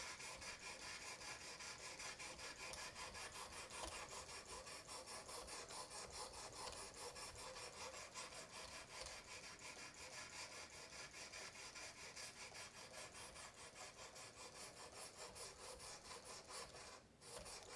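A knife edge being refined on a 600 grit stone in a Work Sharp Precision Adjust sharpener, a faint, continuous fine rasping made of rapid, even strokes with one brief pause near the end.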